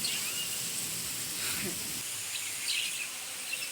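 Steady heavy rain hisses continuously, a dense even wash of drops without pauses, and no voices over it.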